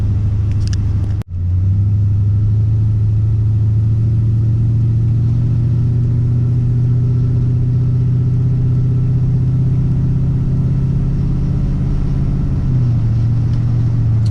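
An LS-swapped square body truck cruises at highway speed, its V8 holding a loud, steady low drone after a brief dropout near the start, with a slight pitch drop near the end and no talking.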